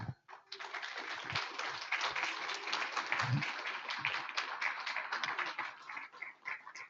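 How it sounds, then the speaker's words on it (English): A membership meeting audience claps for the solar observers, a dense, sustained burst of applause that starts abruptly and fills several seconds before thinning out toward the end. "So again, a round of applause for all our solar observers"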